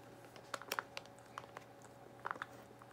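Crunchy Bamba peanut puffs chewed close to the mic, a few faint, scattered crisp crunches over a low steady hum, with no speech.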